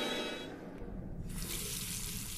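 A water tap running in The Last Door video game, a steady close hiss of flowing water, quiet and alone, with the rushing spreading brighter partway through.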